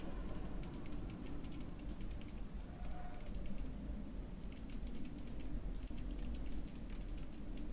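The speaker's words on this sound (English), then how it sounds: "I'm just typing something out to Levi and Juan real quick" Faint, rapid clicking of keys on a computer keyboard, quick taps in irregular bursts over a low steady background hum.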